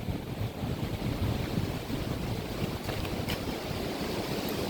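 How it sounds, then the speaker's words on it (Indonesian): Sea surf on the south coast at Parangtritis, a continuous broad roar of waves mixed with heavy wind buffeting on the microphone, steady and fairly loud, with no voices. "laut pesisir selatan"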